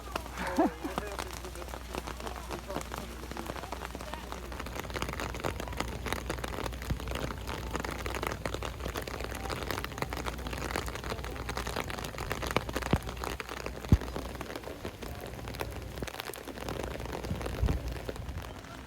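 Steady rain patters across surfaces at an outdoor flower and garden festival, a continuous wash of drops that runs throughout, with a low background rumble and faint activity around it.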